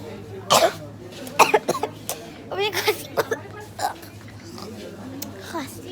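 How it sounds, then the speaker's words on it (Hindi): A few sharp coughs in quick bursts close to the mic, followed by throat clearing and murmured talk in a quiet indoor space. "खांसी."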